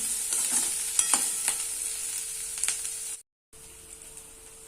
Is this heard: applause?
no